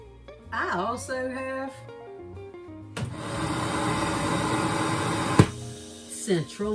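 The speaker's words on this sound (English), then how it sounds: "central vacuum." A central vacuum system in a 2019 Newmar Dutch Star motorhome starts up with a steady broadband whoosh that runs for a few seconds and then cuts off, after a voice is heard at the start.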